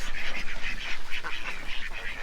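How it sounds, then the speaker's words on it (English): Loud, harsh call duck quacks repeat in a quick, steady run, close by and with no talking. "They're called call ducks, or at least we think they're called call ducks because they're so darn loud."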